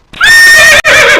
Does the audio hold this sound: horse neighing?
yes